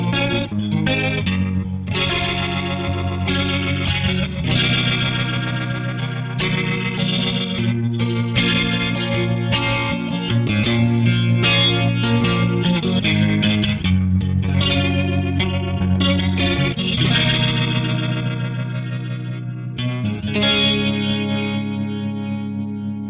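An organ played through a Leslie 122 rotary speaker cabinet emulation with Marshall overdrive, its sustained chords swirling and gritty, playing continuously and loud with no talking.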